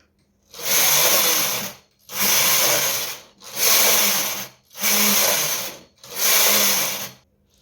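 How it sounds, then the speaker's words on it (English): A knitting machine runs five sweeps of its carriage across rows of white yarn at tension 9. Each pass is a loud, steady mechanical whirr of about a second, with short quiet gaps between the passes. "So I'm going to go right now and knit 120 with the white yarn."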